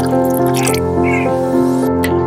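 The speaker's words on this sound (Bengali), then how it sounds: "পরিমাণ মতো জল দিয়ে দেবো" Water poured into sizzling, oil-separated masala for a vegetarian biryani gives a close, steady wet splashing and dripping over a constant hum, with no talk.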